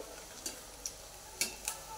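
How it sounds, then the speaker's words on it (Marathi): Oil sizzles softly as a single puri fries in hot oil, with a few sharp crackles and pops spaced irregularly, quiet and close. "तर आपलं तेल चांगलं तापलेलं आहे, ह्याच्यामध्ये आपण सोडून घेऊया आता पुऱ्या"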